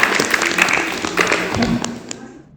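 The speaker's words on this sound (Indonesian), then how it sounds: "Tepuk tangan untuk kelompok merah" Students applaud the red group during a classroom quiz game, a loose patter of many quick claps that thins out and fades toward the end, with some chatter mixed in underneath.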